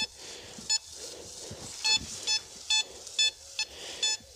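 Metal detector giving sharp, repeated electronic beeps in short bursts over buried metal, likely a large piece of aluminium, outdoors in a field, with a faint background hiss between tones.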